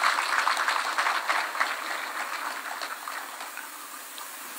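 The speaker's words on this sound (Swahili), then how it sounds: "Simupige makofi bana." An audience at a Kenyan government event applauds for a Cabinet Secretary. The dense, crackling clapping is loudest at first and thins gradually as it carries on across the hall.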